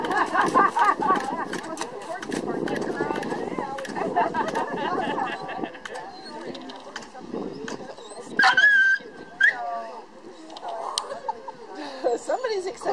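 An excited dog whimpers and yips in high, wavering bursts, with some panting and scuffling, while people talk nearby over much of it.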